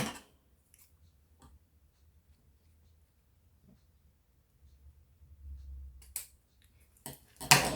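Scissors snip through paper card for a birdhouse envelope pocket, a few quiet cuts spread over near silence, then sharper crisp snips toward the end.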